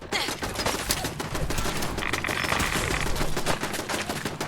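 Enemies fire guns in a Fallout 4 firefight, rapid automatic bursts crackling nonstop and loud at close range, a dense machine-gun clatter with no pause.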